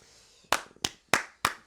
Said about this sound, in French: Attends, arrête d'applaudir.